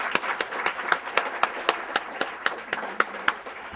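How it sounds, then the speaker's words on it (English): Scattered clapping from a small audience rings out after a panel discussion on women in journalism, a fairly close, irregular patter of individual claps. "I think they deserve a round of applause,"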